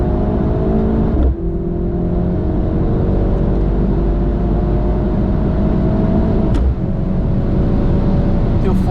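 A Mercedes C63 AMG engine on the Nürburgring pulls hard toward redline with a loud, continuous rising drone, briefly dipping at two gear changes before climbing again.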